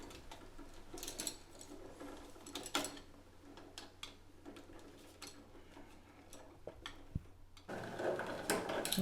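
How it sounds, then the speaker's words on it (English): Ground wire being fastened into a plug socket terminal during a DIY socket replacement, heard as soft close clicks, scrapes and small metallic ticks with no talking, a louder rustle near the end. "that's just me connecting the ground"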